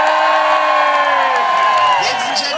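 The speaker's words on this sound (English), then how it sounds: "could you please cheer now?" Crowd at an outdoor cricket match at Wilderness cheering and whooping together, a loud sustained roar with high shouts layered over it, held steady for a couple of seconds.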